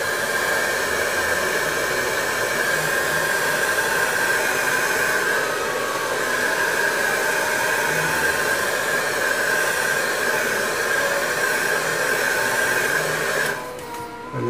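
A hair dryer blows steadily on fresh paint on a scale model, a close, constant whooshing hum that runs unbroken for most of the stretch before cutting off near the end.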